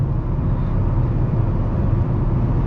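A 2006 Honda Civic LX with 200,000 miles cruises at around 70 mph on the highway, heard from inside as a loud, steady low road and engine rumble with no talk.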